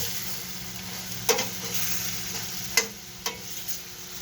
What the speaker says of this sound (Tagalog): Siyempre yan, haluin muna natin.